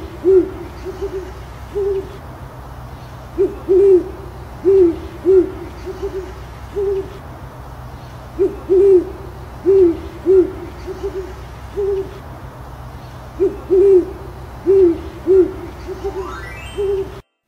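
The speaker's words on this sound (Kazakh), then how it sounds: "Бұл үкі. Түнгі құс." An owl hoots in short, regular bursts of paired calls, repeated steadily across the stretch over a low, quiet background hum.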